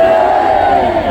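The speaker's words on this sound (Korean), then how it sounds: "제가 자유민주주의를 외치면 여러분들은 만세를 외쳐주십시오." A large crowd at an anti-impeachment rally in Gumi, South Korea, shouts 'manse' in unison: a loud, sustained mass of voices raised together as one cheer, with a strong chorus at close range.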